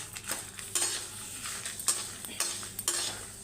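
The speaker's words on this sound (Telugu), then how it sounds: "ఇప్పుడు కరివేపాకు కూడా వేస్తున్నాం. మంచి ఫ్రై అవ్వాలి." Curry leaves frying in a pan while a utensil stirs them, giving quiet intermittent scraping and clinks of metal against the pan over a faint sizzle, with no talking.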